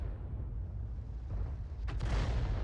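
A tank cannon fires in the World of Tanks video game, a single deep boom with a sharp crack near the end, rising out of a constant low engine rumble.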